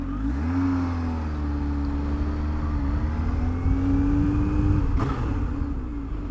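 A 2020 Kawasaki ZH2 motorcycle rides out on the road, its engine a steady, loud drone that holds a rising then level note under throttle, with a brief sharp burst near the end.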